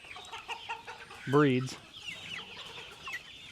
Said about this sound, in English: All these chickens are just chicks that were growing out